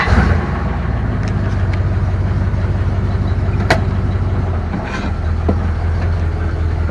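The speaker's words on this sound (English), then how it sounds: "Okay, here's our first trip in the car in" A 1958 Plymouth Suburban two-door wagon rolls along on its first drive in a long time, its engine giving a steady low droning hum with road rumble throughout and a couple of brief knocks.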